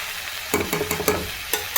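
A spatula stirs Bengali cabbage curry in a hot pan, giving a quick run of close scraping strokes over a light sizzle, several taps spaced about a fifth of a second apart.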